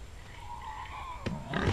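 Pig grunt from the hostile pig in the horror game Mr Meat, a short rough low snort near the end, preceded by a sharp click over a faint droning game ambience.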